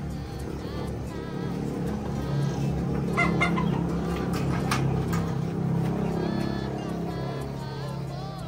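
Chickens cluck and murmur in a busy background, with a few sharper calls rising over a steady low rumble.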